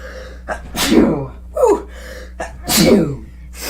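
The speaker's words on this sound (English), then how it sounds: "There's this on-stream sneeze." A loud, close sneeze with a sharp gasping inhale before it, then a second burst and breathy exhales, with no talking.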